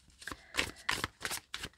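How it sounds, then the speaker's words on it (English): Tarot cards are shuffled overhand in quick bursts, five or six papery riffling strokes close by, with short pauses between them. "you can shuffle overhand like super easily"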